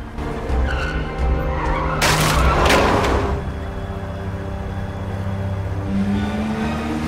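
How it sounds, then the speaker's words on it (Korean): A car escaping through a parking garage in a Christmas Eve thriller film, its engine roaring steadily while tires squeal in a loud, sharp burst midway before the motor keeps droning on. "훔친 자동차 키로 차를 타고 탈출을 시도합니다"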